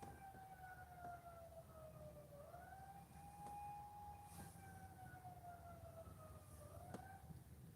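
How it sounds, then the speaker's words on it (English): A handheld PA siren wails and sweeps up and down in pitch at a distance, faint and steady throughout, during a police patrol door entry. "That's like a handheld PA siren."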